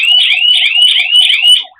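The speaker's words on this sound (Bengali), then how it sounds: "তো এটাতে অ্যালার্ম বাজছে" A KERUI security alarm siren, rated at 120 dB and set off by a motion sensor, blares very loud and close with a rapid warbling electronic whoop repeated several times before it cuts off.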